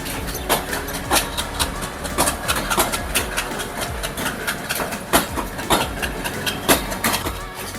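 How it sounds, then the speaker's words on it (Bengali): A train crosses the Hardinge Bridge in Pabna, its wheels clacking in a steady rhythm over a continuous rolling rumble, fairly close, with no voices. "ট্রেনের এই ঝকঝক আওয়াজ শুনতে শুনতে মন আর মানছে না।"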